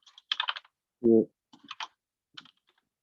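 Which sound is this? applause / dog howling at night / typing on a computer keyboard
typing on a computer keyboard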